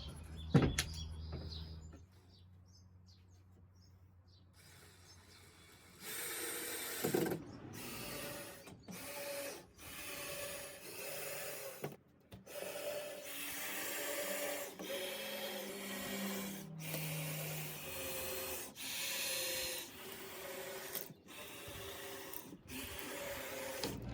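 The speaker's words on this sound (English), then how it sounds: "probably gonna start by screwing in the top" Power screwdriver driving screws into the top of a plywood ramp, repeated whirring bursts of several seconds each separated by short pauses, close and fairly loud, after a quieter stretch at the start.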